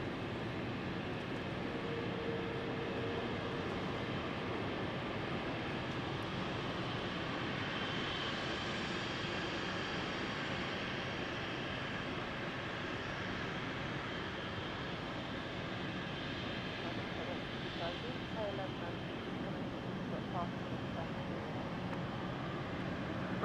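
Aircraft taxiing at London City Airport, producing a steady, broad engine roar that holds even throughout, with no voices over it.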